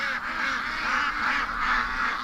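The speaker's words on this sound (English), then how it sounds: "The ducks are doing stampedes all over the place." A large flock of ducks quacks and honks continuously in a close, dense chorus, with the birds milling about and overlapping calls filling the whole stretch.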